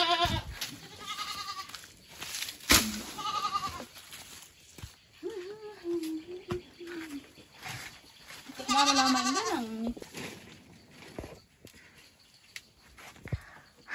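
A castrated male goat at a village home bleats several times close by, in distinct wavering calls separated by pauses, with faint rustling and movement between them.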